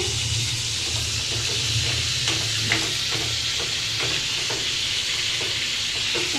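Bottle gourd with shrimp cooks in a hot pan, giving a steady, loud, crackling sizzle throughout with soft stirring scrapes and clicks on top.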